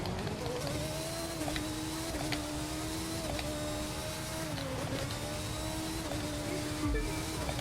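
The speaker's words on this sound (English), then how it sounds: "I love high RPM sounds in this game, especially F1 cars" High-revving Formula 1 car engine in the racing game The Crew 2, a steady loud whine with shifting pitch and brief dips between gears, running continuously under faint talk.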